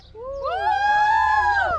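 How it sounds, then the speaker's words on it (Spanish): Crowd of high school graduates, class of 2021 at CBTIS 129 in Villa Juárez, letting out a loud, rising shouted cheer that swells and holds for under two seconds before cutting off. "¡El grito de los graduados!"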